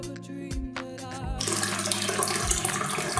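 Tap water runs into a 5-liter pot in a kitchen, first a few uneven splashy gurgles, then a loud steady full-flow rush that continues close by.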